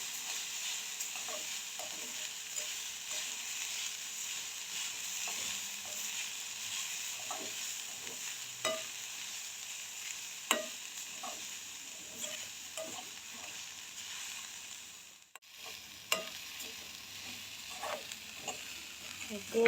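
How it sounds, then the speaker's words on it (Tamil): Grated beetroot and coconut sautéing in ghee while being stirred continuously, a quiet steady sizzle broken by scattered light taps and scrapes of the spoon against the pan throughout. "இப்படி வந்து நாங்கள் வந்து கை விடாமல் வந்து இதை வந்து கிளறிட்டு இருக்கணும்"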